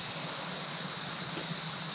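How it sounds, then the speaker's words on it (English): A waterfall at the base of a fall on the Mobong Creek Track in Cascade National Park gives a steady, soft rushing hiss of falling water, even and unbroken, heard alone. "Look at this beautiful waterfall."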